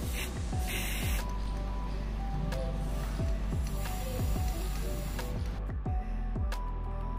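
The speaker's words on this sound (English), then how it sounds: "I used the black spray paint to paint it from all directions" Black spray paint hisses from an aerosol can in a series of short and longer bursts, close and loud, with faint clicks and rattles between sprays.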